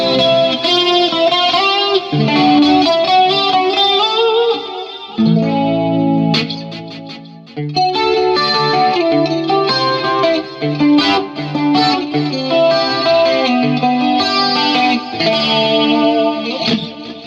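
Ibanez PGMM11 small-scale electric guitar on its two single-coil pickups, clean tone through chorus and effects, strummed chords and picked lines ringing with shimmer and some grit, continuous and unaccompanied.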